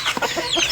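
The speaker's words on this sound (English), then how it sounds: "Fowl go run come now." Chickens on a poultry farm cluck in a quick, close, fairly loud burst as they run in, short overlapping calls lasting under a second.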